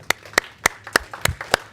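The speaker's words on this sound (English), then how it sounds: "Just a little moment of applause from all of us." Sharp, evenly spaced claps at a transit board meeting, about seven in quick steady rhythm, close by, with a few softer claps scattered between.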